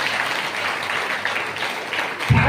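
A church congregation claps loudly and continuously in a dense, steady wash of applause, and a low thump or voice enters near the end.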